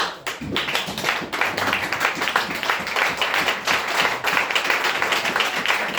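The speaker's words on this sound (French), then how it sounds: "je vais m'arrêter là pour qu'on acclame le Seigneur" A church congregation claps and cheers to acclaim the Lord, a dense, continuous roar of many hands close and loud, steady throughout with brief sharper claps poking through.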